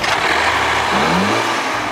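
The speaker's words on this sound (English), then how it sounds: "This crossover's only engine is a turbocharged 4-cylinder designed and built by Ford." A Land Rover Discovery Sport's turbocharged Ford-built 4-cylinder engine revs up and settles, a loud mid-pitched engine note that rises briefly and falls back, with no talk over it.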